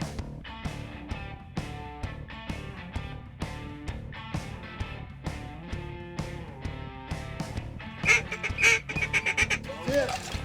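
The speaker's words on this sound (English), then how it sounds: "you can hear those ducks flying over" Ducks quack repeatedly at a steady pace at an Arkansas duck hunt, the nasal calls close and continuous, with a louder, busier flurry near the end.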